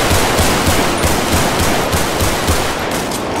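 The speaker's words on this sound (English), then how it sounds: "Shots fired by officer." Gunfire in a GTA roleplay video game, a loud steady burst of rapid shots repeating evenly throughout, close and dense with no talking.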